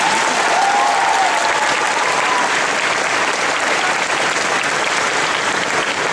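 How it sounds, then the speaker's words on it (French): An audience at an anime convention masquerade claps in sustained, dense applause that stays loud and even for several seconds, with no speech over it. "Une autre bonne main d'applaudissement."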